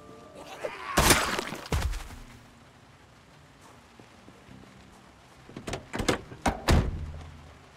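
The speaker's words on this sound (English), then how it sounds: "We can hopefully close these garage doors." Garage doors swing shut in the zombie survival game Project Zomboid: one heavy thud near one second and another a moment later, then a cluster of four or five sharp clanks and slams toward the end. Faint ambience fills the gaps.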